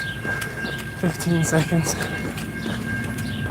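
A freight train passes close by with a steady rumbling rail clatter and wheel noise throughout, while someone speaks briefly over it.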